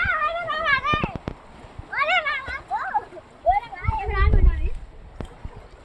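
Children swim in a flowing stream, their high voices shouting and calling over the water, with a heavier splash near the end.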